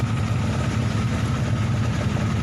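A Honda CBR 150R motorcycle engine runs steadily at close range with a low, droning rumble and no talk. The bike has a fault that makes it stumble and hold at around 2000 rpm.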